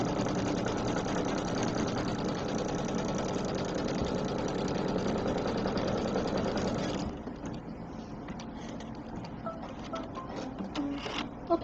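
An embroidery machine runs a placement line on a pinwheel piece, a dense rhythmic mechanical stitching clatter that runs for about seven seconds, then stops, leaving quieter handling noises.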